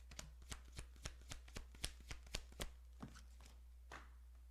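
A deck of cards is shuffled and dealt close up, a quick series of crisp riffles and slaps in an uneven rhythm over a faint steady hum, with no one speaking.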